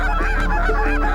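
A goose call blown close up gives rapid, loud, nasal honks in quick succession, mimicking waterfowl with no voices.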